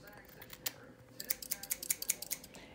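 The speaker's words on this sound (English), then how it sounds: "I'm going to cut maybe about 1 inch off" Scissors snipping through hair during a haircut, a quiet close series of short sharp snips, sparse at first and then quicker and more regular toward the end.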